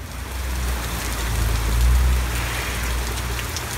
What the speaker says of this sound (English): That's the most rain that San Diego has seen in probably a year.